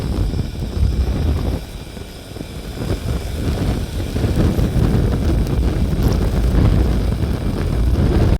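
Roaring, breathy rush of a pressure stove being primed and warmed up, a steady broadband hiss that holds loud and close for several seconds with no talk.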